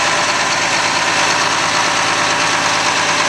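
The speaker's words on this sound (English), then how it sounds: "I'll just give you some video of the nice clean-looking 4560 two-wheel drive John Deere." A clean John Deere 4560 two-wheel drive tractor engine running at a steady idle, loud, close and continuous with an even low rumble and no talk.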